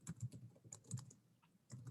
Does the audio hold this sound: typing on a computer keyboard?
yes